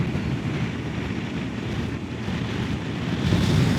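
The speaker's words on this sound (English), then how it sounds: "Oh, it's windy." Strong, steady wind buffets the microphone in Woodstock, New Hampshire, a constant low roaring rush that swells louder toward the end.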